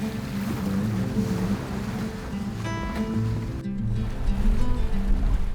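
A sailing catamaran glides through calm sea, a steady broadband wash of water and wind along the hulls with low rumbling, continuous and moderately loud, with no talk.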